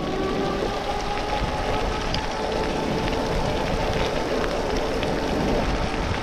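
Steady rain pattering on surfaces during a nighttime light-rain bike ride, a constant dense hiss with scattered drip ticks and no talk.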